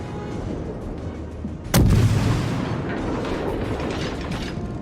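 Naval guns of a Japanese tier II cruiser, the Chikuma, firing in World of Warships: one sudden heavy boom about midway, after a low rumbling background, followed by a long rolling decay.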